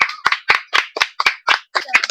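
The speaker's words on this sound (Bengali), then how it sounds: "হাততালি হোক।" A small group claps for a winner at a prize-giving game, about nine sharp, evenly spaced claps delivered close and clear with no talk over them.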